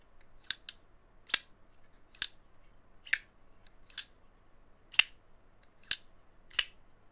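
Eight sharp, bright snaps ring out at a steady pace as a Vosteed Ankylo button-lock folding knife with ceramic bearings and aluminum scales is flipped open again and again, each click close and distinct against near silence.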